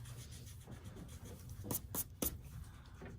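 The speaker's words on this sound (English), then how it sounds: "So I'll erase these lines." Pencil eraser rubbing out drawn lines on paper during a middle school doodle art project, heard as a few short, close scratchy strokes over a quiet low background hum.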